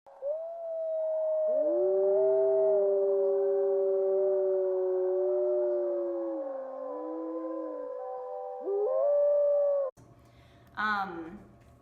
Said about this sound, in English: Wolves also do this, but they sing with howls, which is a lot more musical than most animals.